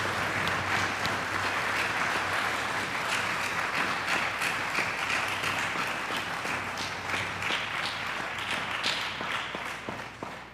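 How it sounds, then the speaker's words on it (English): A parish congregation at a Catholic confirmation applauds the bishop, sustained clapping from many hands that runs steadily for about ten seconds and slowly tapers near the end. "Let's clap for him."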